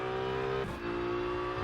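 A BMW race car engine roars steadily in the Rennsport racing game, a loud, continuous note with a brief dip in pitch partway through before it climbs again, up close and with no talk over it.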